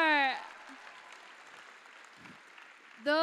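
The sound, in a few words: audience applause at MineCon 2011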